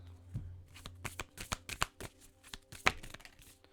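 Tarot cards are shuffled and handled close by in a quiet room, giving a rapid string of soft flicks and riffles ending in a sharper snap as one card is drawn.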